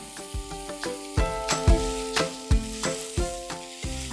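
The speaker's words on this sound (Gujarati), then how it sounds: "આ ડુંગળી સતળાઈ જાય પછી વટાણા એડ કરીને એને થોડા મેશ કરી દેવાના અધકચરા" Peas go into a pan of sautéed onions and are roughly mashed on a low flame. Regular scraping and pressing strokes of a utensil knock against the pan over a steady sizzle, close and fairly loud, with no talk.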